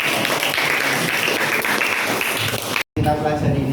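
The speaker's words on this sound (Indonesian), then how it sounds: "Oke, tepuk tangan dong." Students in a high school maths classroom applaud together in a steady burst of clapping with voices mixed in, which cuts off abruptly near the end.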